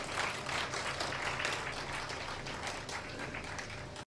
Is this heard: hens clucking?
no